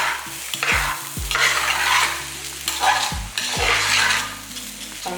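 Ingredients for sambar rice sizzle and fry in a pan with turmeric powder and salt added, a spatula stirring in repeated scraping strokes under a steady close hiss, with background music playing throughout.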